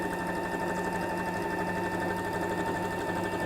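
A sewing machine stitching a tote bag with pockets, running continuously at a steady rhythmic pace with a fast, even needle chatter close by.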